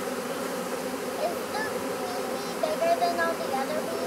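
A honeybee swarm being captured fills the air with a dense, steady buzzing, close and continuous, with brief louder surges as individual bees pass near.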